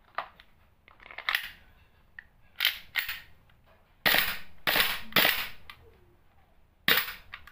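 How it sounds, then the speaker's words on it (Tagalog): A gun fires in full auto, heard as sharp, irregular bursts of cracking reports with short quiet gaps between them, fairly close and with no talking. "Nagpo-full auto yung unit ni sir."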